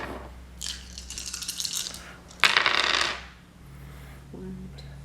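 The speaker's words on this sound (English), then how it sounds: "So you roll 5 dice." Five dice are rolled in a tabletop board game: plastic clatters and rattles in two quick bursts as they tumble across the table, followed by a softer settling click.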